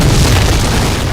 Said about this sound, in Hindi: हमारा छिपाया हुआ बम ब्लास्ट हो जाएगा